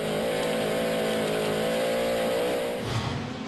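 A Pro Light off-road race truck engine revs steadily at high pitch down a desert straightaway in Surprise, Arizona, loud and close, with a harmonic whine that drops and fades near the end.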